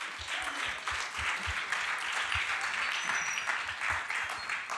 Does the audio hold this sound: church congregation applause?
yes